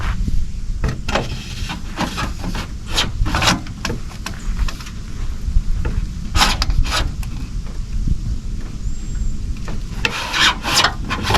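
Rasping, scraping strokes trim a Home Depot plastic sewer pipe, a loud, close, continuous rough rubbing with irregular bursts, no talking.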